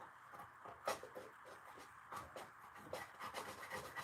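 Dried glue is scraped off a live-edge wooden bowl in quiet, rough rubbing strokes with an irregular rhythm, close up and faint.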